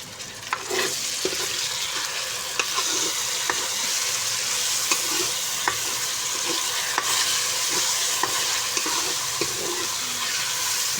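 Chopped tomato and green chillies fry in a pan for dal chicken, with a steady close sizzle punctuated by regular light clicks and scrapes of a stirring spoon.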